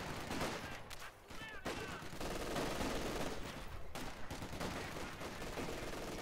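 Dense, continuous MG42 machine gun fire from the Company of Heroes 2 strategy game, mixed with other gunfire and battle noise in a loud, unbroken wall of shooting, with no voice over it.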